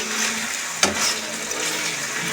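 Onions frying in a pan, a steady close hiss and sizzle with a single sharp clack of a utensil partway through, and no voices over it.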